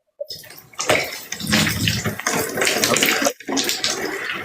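A shower runs with a loud, continuous hiss of spraying water, broken by a short silence at the start and a brief cut near the end, with no voices over it.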